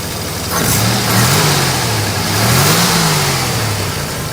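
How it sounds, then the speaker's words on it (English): A 1987 Buick Grand National engine idles close by, then revs up twice in smooth rising and falling swells before settling back to a steady idle, loud and without talk. "It's idling a ton better."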